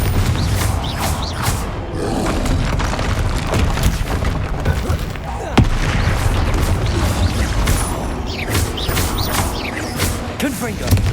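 Confringo fire-blast spells from Hogwarts Legacy, a loud, dense barrage of booming blasts and crackling impacts, with repeated sharp bursts and shouted spell names over continuous battle noise throughout.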